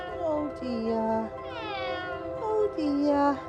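A Tonkinese cat at the vets meows repeatedly, long drawn-out wavering cries close to the ear, rising and falling in pitch with short gaps between them.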